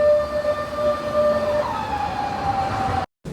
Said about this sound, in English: So this is the train or tram.